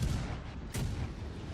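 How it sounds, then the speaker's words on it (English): Naval guns fire from a warship in a video game, a single loud report that booms out around midway over a dense, continuous rumble of battle noise. "And there's the outgoing fire."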